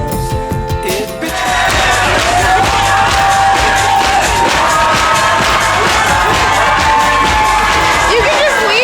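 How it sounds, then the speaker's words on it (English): A crowd cheering, yelling and whooping near a male strip club, with loud continuous noise that swells after a brief quieter start and carries throughout. "Clapping and screaming."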